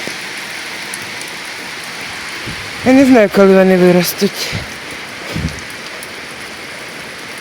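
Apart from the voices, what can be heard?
light rain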